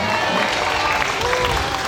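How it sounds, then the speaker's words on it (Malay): An audience at a Sabah school dance performance claps in a full, even burst of applause that lasts throughout. "beri tepukan kepada Sekolah Menengah"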